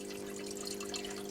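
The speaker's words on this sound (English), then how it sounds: "The water will then flow down the channel into the outlet" Water flows steadily down the channel of a small salad table toward its outlet, a faint, even trickle with a constant low hum beneath it.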